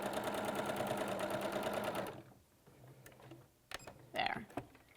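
Sewing machine running steadily as it stitches a flying geese quilt block, a close, even whirring chatter for two seconds that then stops, followed by soft handling clicks and rustles.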